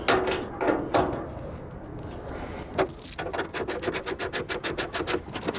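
Bolts being removed from the side of a 1998 Chevy C/K 1500 tailgate, heard as a few scattered metallic clicks and knocks followed by a fast, steady ratcheting tool clicking up close.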